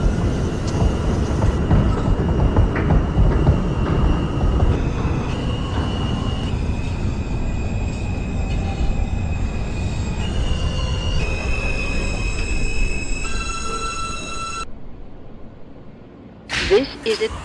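R160A subway train on the R line running through a tunnel in the openbve train simulator game, a loud continuous rumble with rising and falling whine and squealing wheel tones, and a sharp clatter near the end.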